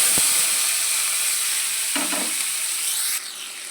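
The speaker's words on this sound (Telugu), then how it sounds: "ఇప్పుడు ఇదే ఆయిల్లో ఉల్లిపాయలను టమాటాలు వేపుకుంటాం." Onions and tomatoes frying in oil in a pan, a steady close sizzle with a brief stir in the middle, no talking.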